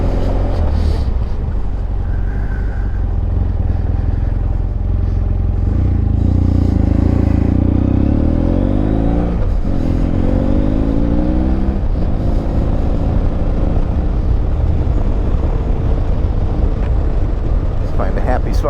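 A BMW F800GSA motorcycle engine runs steadily while riding, a loud continuous drone with wind rush, its pitch rising and falling through gear changes and shifting revs.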